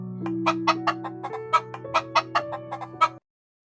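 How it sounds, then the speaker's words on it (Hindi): A cartoon hen crows repeatedly in sharp, rhythmic bursts over a steady low hum, close by and fairly loud. "मुर्गी जोर जोर से कुकड़ू कू करने लगी"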